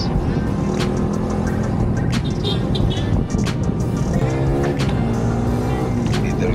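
A motorcycle rides along an open road, its loud engine and wind noise continuous and close, with a brief rising rev partway through and some clicks and rattles over the drone.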